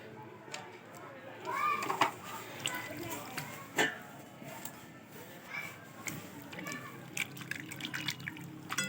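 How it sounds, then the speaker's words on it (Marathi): Cooked karadi greens are rinsed in cold water in a strainer, with running tap water, drips and splashes under a woman's speech and background voices. "आता हिला आपण थंड पाण्यामध्ये धुवून घ्यायचे।"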